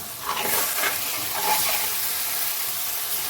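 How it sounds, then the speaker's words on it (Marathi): A fish curry is stirred in a frying pan. A steady, close sizzling hiss carries on throughout, with soft stirring scrapes rising above it now and then. "हलवून घ्यायचं असं एकदम मजेत"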